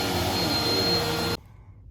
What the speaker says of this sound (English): So yeah, this has been a great vacuum for us.